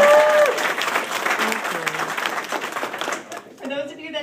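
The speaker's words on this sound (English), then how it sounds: "round of applause to the lovely newlyweds" A room full of wedding guests applauding the newlyweds, dense clapping that fades toward the end as a voice starts speaking.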